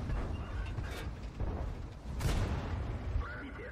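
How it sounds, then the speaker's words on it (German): Tank cannon shots in the World of Tanks video game, a couple of dull booming blasts a second or so apart over a rumbling battle background. "Schöne, schnelle Schüsse"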